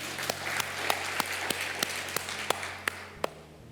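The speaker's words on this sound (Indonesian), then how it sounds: "Kita tepuk tangan dulu buat Tuhan Yesus." Regular claps ring out at a church service, about ten sharp hand claps in a steady beat over a soft room hum, with no voices.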